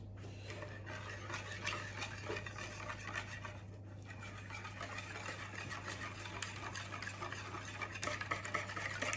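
Quiche filling is whisked or stirred in a bowl with a splash of milk, giving a steady, continuous scraping and swishing close up, with a low hum underneath throughout.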